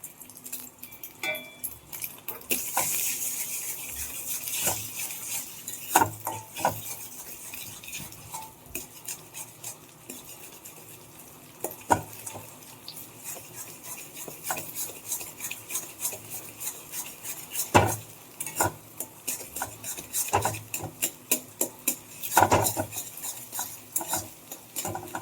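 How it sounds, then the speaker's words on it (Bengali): Four beaten eggs frying in a pan: a spatula or spoon repeatedly scrapes and clinks against the metal, with a faint sizzle underneath, at close range and with no talking. "তো ডিমটা ভাজা হয়ে গেছে"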